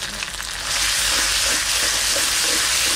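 Cumin and coriander paste hits hot oil in a pan for a village-style fish curry, sizzling loudly and steadily, swelling into a continuous close frying hiss after the first moment, with no voices.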